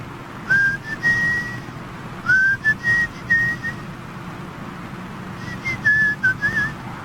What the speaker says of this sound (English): That's right, the whistle, the whistle.